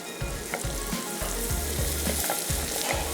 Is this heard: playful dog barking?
no